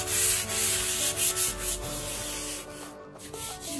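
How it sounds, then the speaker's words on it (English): Rust sanded off a metal chair base: continuous loud, rhythmic abrasive scraping, close and harsh with strokes back and forth, and no voices. "Sand all of the rust off the base."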